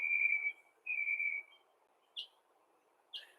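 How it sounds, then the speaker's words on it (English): A mockingbird perched nearby in Atlanta, Georgia sings alone, giving two sustained clear whistled notes followed by two brief sharp chirps, fairly loud against a quiet afternoon background. "That is a mockingbird."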